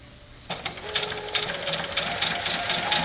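A sewing machine stitches a quarter-inch quilt seam on border fabric, a steady close whirring hum starting after a brief quiet moment and running continuously at moderate loudness.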